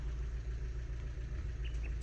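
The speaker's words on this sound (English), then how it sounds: "You probably hear the truck." A pickup truck engine rumbles steadily nearby as the vehicle pulls away, a low continuous idle-like drone with no talking.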